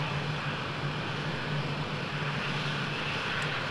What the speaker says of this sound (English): engine is responding.